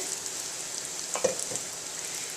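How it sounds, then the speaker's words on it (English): Pita bread pieces fry in hot oil in a deep fryer, giving a steady soft sizzle with a brief burst of crackling partway through. "you just want to fry them for just a minute or two until they're a nice golden brown color"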